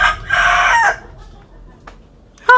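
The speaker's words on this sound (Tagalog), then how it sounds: "hapon na natilak na ang mga manok" A rooster crows once in the late afternoon, loud and close, its drawn-out call lasting under a second, followed by faint background noise and a brief second bird cry near the end.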